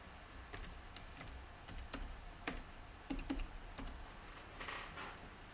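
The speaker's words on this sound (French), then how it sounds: "Il suffit de taper son nom en haut à gauche dans la barre de recherche, puis de valider." Keystrokes on a computer keyboard as a town name is typed into a search bar, a quiet, irregular run of separate clicks spaced across a few seconds.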